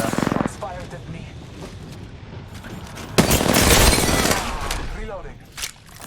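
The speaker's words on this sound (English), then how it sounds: "Shots fired at me." Apex Legends gunfire with bursts of rapid shots and a long sustained volley, loud and close, with heavy impacts and a brief voice in the mix.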